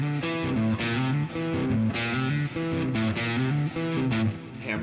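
Distorted electric guitar plays an arpeggio with hammer-ons, finishing with a quick downward sweep across the strings, loud and alone with no voice.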